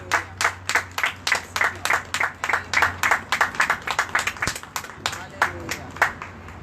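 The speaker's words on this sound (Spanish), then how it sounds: "Denle un aplauso al Señor." A church congregation claps along in a steady, quick rhythm, the bright claps sounding loud and close, with a low hum running underneath.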